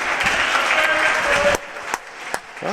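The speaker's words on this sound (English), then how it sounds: "Give Chris Kobang a big round of applause." Audience applause at a varsity game in a gym fills the first half, dense and loud with a bright whoosh, then cuts off abruptly to near quiet with a couple of stray claps.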